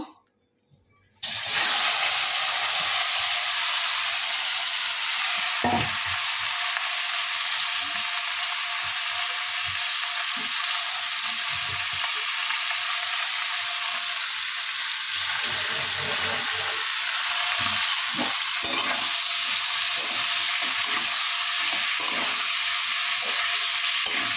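A Bengali home-style curry sizzles in a pan after fried potatoes, a loud continuous frying hiss starting abruptly after a brief quiet moment and running steadily with occasional small clicks, no talk.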